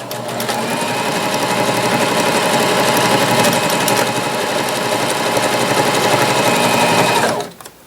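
A Janome HD3000 sewing machine runs steadily at speed while stitching a buttonhole, a loud continuous mechanical whir with fast needle rhythm lasting about seven seconds before stopping abruptly.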